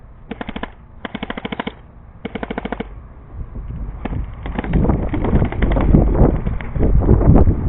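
Airsoft guns fire during an outdoor capture-the-flag game: three sharp, rapid bursts of automatic fire, then a rising, louder jumble of shots and rustling commotion nearby.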